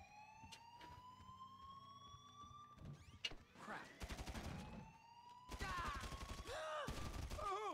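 In-game gunfire in GTA Online sounds as rapid bursts of automatic shots, loud and dense, over a wailing police siren and engine drone, with players talking over the action.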